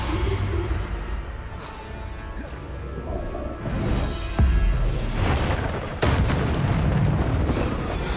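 Repeated booming spell blasts from the Bombarda explosion spell in the Hogwarts Legacy video game, crashing and bursting in quick succession over a dense, rumbling battle din, with heavier impacts near the middle and end.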